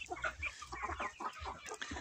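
Two-month-old Livensky marble chickens, young cockerels and hens, clucking and chirping in a dense overlapping flock, close and steady with no talk over them.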